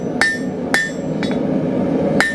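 A hand forging hammer strikes steel while drawing out the stock, four sharp metallic blows with bright ringing tails, irregularly spaced and loud, over a low steady workshop hum, no voices.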